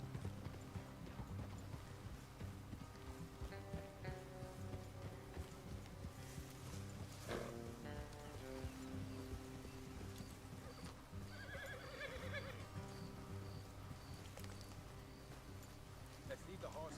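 Horses in a video game clip-clop and whinny steadily throughout, with hoofbeats continuing under game music and a short burst of other sounds midway, while a voice speaks over the scene.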